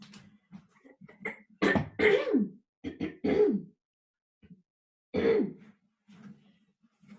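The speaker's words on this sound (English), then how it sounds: "I'm going to clear my throat for 1 second." Someone clears their throat several times in a row, close and fairly loud harsh rasps with brief pauses between them, followed by quiet breathing.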